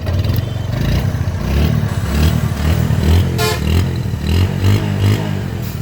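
A second-hand Bajaj Discover 135 motorcycle in fresh original condition runs loudly and close by, its engine chugging with a rough, uneven clatter and slight swells in revs throughout.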